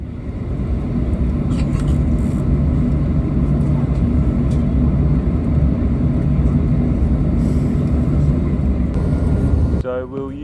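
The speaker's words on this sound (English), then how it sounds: "We were taking off from runway 35, which is the main runway used here at Canberra Airport." Heard from inside the cabin, a Virgin Australia airliner takes off from runway 35 at Canberra Airport with a loud, continuous engine roar and rumble that lasts throughout.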